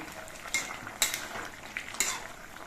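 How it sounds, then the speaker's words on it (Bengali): A spoon scrapes and clinks against a pot in several distinct strokes while papaya shukto curry is stirred, with a faint sizzle underneath and no talking. "আমি ঢাকনাটা খুলে নিচ্ছি আর শুক্তো তরকারিটা আর নেড়ে দিচ্ছি"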